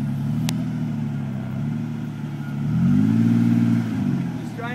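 A car on slick tires spins its wheels on grass, its engine droning steadily and then rising into a louder rev near the end, with people talking over it.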